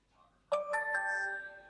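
A DJI Action 4 action camera shutting off gives a short descending chime of three quick tonal beeps that ring on briefly, fairly quiet in a still room.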